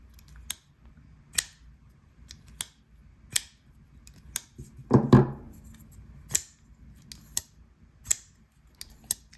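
Alliance Designs and custom CMF Conquest pocketknives opened and closed over and over, sharp metallic clicks and snaps at a regular pace with one longer, rougher action in the middle, close and crisp.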